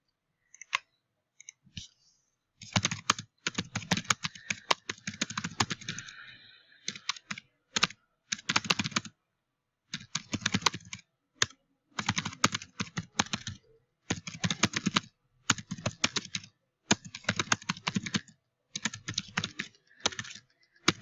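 Rapid clicking of keys on a computer keyboard as an answer is typed, coming in repeated bursts separated by short pauses, close and fairly loud with no talking.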